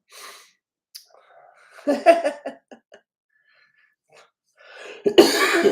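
A person coughs several times in rough, hacking bursts between breaths, ending with a harsher, louder coughing fit close by.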